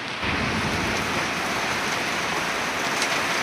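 Heavy rain pouring steadily in a rural outdoor setting during a storm, a dense continuous hiss of drops close by with no talk over it.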